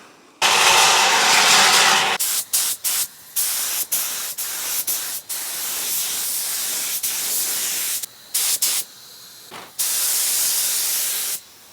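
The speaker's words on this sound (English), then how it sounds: "I'm spraying over here because I want to avoid Cerakote inhalement at all costs." Loud spray-gun hissing outdoors as Cerakote coating is applied to Mitsubishi Evo 8 parts, in repeated bursts, some long and steady, others short, separated by brief pauses, close up.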